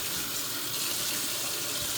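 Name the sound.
rinsing out a pot under running tap water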